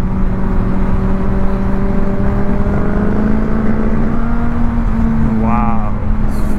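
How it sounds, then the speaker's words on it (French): A Harley-Davidson motorcycle engine revs and drones steadily nearby, its pitch rising and falling, with a brief voice near the end. "Waouh, super ça, moto. J'adore les Harley"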